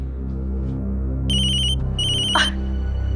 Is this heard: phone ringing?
yes